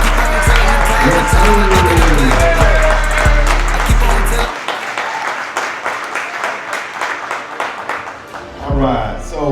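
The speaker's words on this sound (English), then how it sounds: "give them a round of applause" An audience at a youth sports league award ceremony applauds the winners, dense clapping and cheering in a large room, loud at first over heavy bass music, then thinning into scattered claps with a voice over a microphone.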